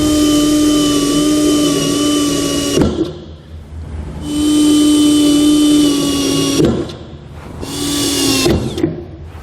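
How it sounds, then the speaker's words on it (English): A power drill with a 1/8 inch bit whines steadily in three bursts while drilling pilot holes, each spinning up at a high pitch and then stopping, with short quiet gaps of handling noise between them. "we're going to use a 1/8 inch drill bit to make a pilot hole at each location"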